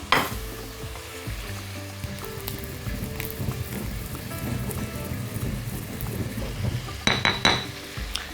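Whole spices dry-roasting in a hot pan, a steady close crackling sizzle that runs throughout, with a few sharp clinks of stirring near the end.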